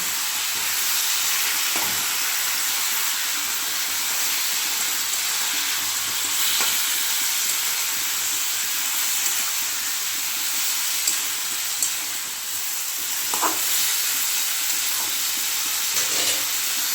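Ground chili paste fries with tengra fish and cauliflower in a pan, producing a steady, even hiss of sizzling oil with a few brief stirring scrapes scattered across a long stretch and no voices.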